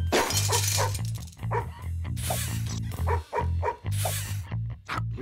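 Cartoon dog barking in the Madagascar: Escape 2 Africa video game, repeated sharp barks over a loud continuous game music score, with a crash of breaking debris mixed in.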